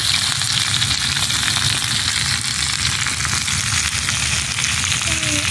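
Dense, continuous sizzling of radish, potato and tomato frying in a pan with salt and turmeric, loud and steady with faint stirring throughout.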